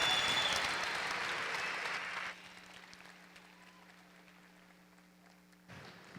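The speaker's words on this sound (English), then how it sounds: "Please give Fabio a big round of applause" An audience at a university freshman convocation gives a burst of loud clapping for about two seconds, which then drops to scattered faint claps in a quiet hall.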